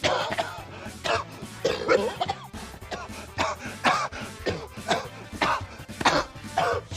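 A person coughs hard and repeatedly in a long, rough fit of hacking bursts with throat clearing between them, close and loud throughout.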